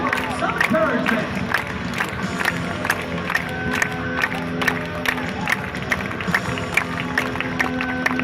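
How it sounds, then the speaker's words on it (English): Audience at a dirtbike ball stunt show clapping along in a steady rhythm, a dense crowd with cheering mixed in and an announcer's voice over the top. "Come on, everybody, let's clap along."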